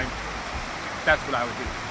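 A small creek on a gold claim in the Galice district flows with a steady, broadband rushing wash, constant and fairly close, with no talk over it.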